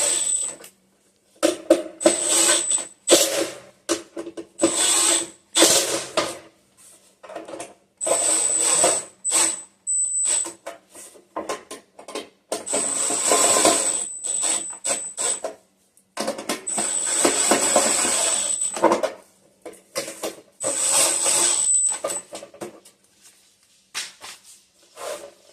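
Screws are worked out of a Simder MIG welder housing in repeated bursts of close metallic scraping and clicking, each lasting a second or two, with quiet gaps between turns.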